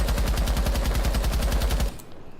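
Capitao's weapon in Rainbow Six Siege fires a loud, steady full-auto burst of rapid, evenly spaced shots into a wall, then stops abruptly, leaving a short fading tail.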